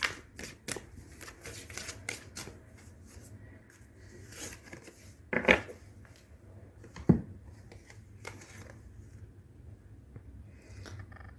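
Tarot cards riffle and slide in a quiet room through several soft, papery shuffling bursts, with one crisper snap as a single card is drawn and set down.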